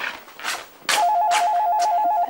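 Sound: telephone ringing

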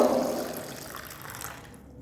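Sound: washing amla (Indian gooseberries) with water

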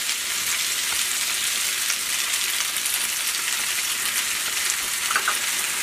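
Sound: butter melting and spinach frying in a pan

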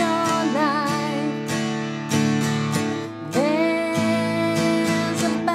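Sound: guitar strumming a song's chorus pattern

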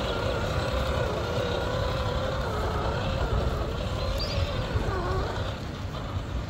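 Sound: FMS FCX10 RC crawler truck motor climbing an obstacle

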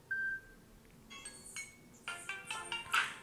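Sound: phone ringtone preview playing

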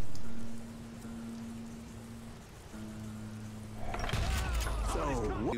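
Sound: rain weather effect in video game Call of Juarez Gunslinger

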